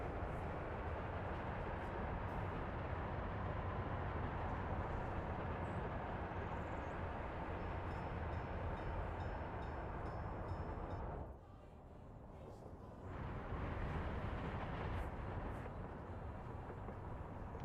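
Trains rolling along a passing track in the city-building game Workers and Resources, a steady loud rumble of wheels and cars that dips briefly near the end before resuming.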